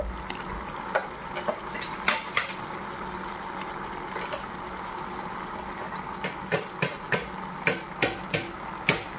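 Spoon scraping and stirring cauliflower stems with turmeric, chilli and cumin powder in a pan, giving a soft steady sizzle under a run of sharp close clicks and taps that bunch together near the end.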